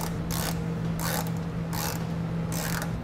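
A ratchet tightening factory hardware on the front fascia of a 2013 Volvo XC70, four quick bursts of rapid clicking separated by short pauses, close and clear over a low background hum.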